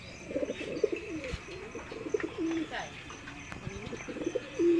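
Several pigeons coo in repeated soft, throaty phrases nearby, with other birds chirping faintly in the background.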